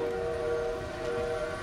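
Steady rumbling train with a sustained whistle-like tone in the Call of Duty WWII campaign, loud and continuous with no talking.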